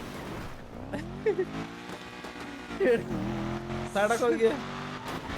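Car engine hums steadily on a moving drive, with a few rising revs and shifts as voices talk over it throughout.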